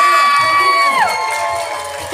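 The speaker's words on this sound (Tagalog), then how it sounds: "Bigyan naman natin ng isang masigabong palakpakan at malakas na hiyawan si Kapitana" A crowd at an evening 60th birthday celebration cheers and whoops loudly with children shouting, a dense sustained roar with a high sung or squealed tone gliding down partway through.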